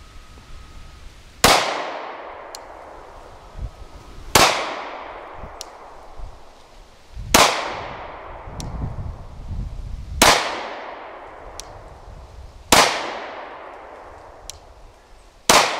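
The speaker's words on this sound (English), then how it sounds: "So this first course of fire is just going to be 7 rounds, slow fire, no time limit" Gunshots fired slow and deliberate at a 2-inch target square, with six sharp loud cracks spaced about three seconds apart, each followed by a decaying echo, with faint background noise between shots.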